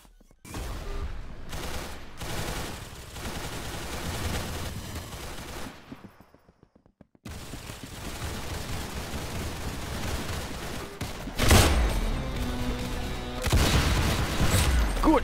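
Rapid gunfire in the Roblox game Arsenal: dense bursts of shots crackling for several seconds, a brief lull, then heavier booming volleys near the end.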